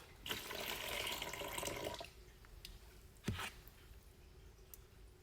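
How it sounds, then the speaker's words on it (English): Water pours and splashes from a soaked sponge for about two seconds, then stops, leaving faint drips and one squelchy splat. "let me drain some of this excess water off"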